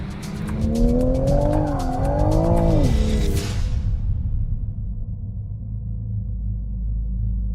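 Toyota Supra lighting up its rear tires in a smooth power slide on a track, a loud sustained tire squeal with wavering pitch over engine roar that cuts off, leaving a low engine rumble.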